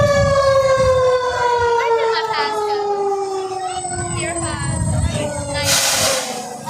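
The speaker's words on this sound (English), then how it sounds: "if you hear that on the road, pull over safely out of the way to let the emergency vehicles pass" A fire department emergency vehicle siren wails loudly at a Christmas parade, its rising and falling tone sweeping steadily over crowd noise, with a brief burst of air-horn-like blare near the end.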